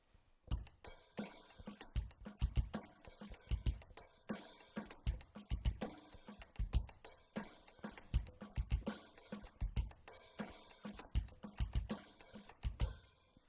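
A full drum kit groove of hi-hat, bass drum and snare, with deep kick thumps and sharp snare hits punching through a busy, repeating hi-hat pattern, close and loud with no talking.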